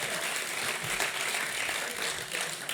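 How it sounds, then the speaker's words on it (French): Audience applause at a French panel debate on production and climate, a moderate, fairly distant wash of clapping from a seated crowd, steady for a few seconds. "Les applaudissements sont plus nourris pour vous, monsieur le député."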